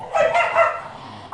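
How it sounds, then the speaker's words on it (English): Two dogs barking and yipping as they wrestle on meeting each other, with a few close, loud barks in quick succession and no talk. "my dogs like to wrestle when they see each other"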